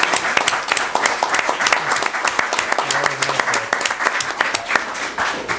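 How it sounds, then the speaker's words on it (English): A county commission meeting room breaks into a steady, loud round of applause from a group of attendees, continuous clapping with no talk over it. "let's give Mr. Schurslick and his department a round of applause"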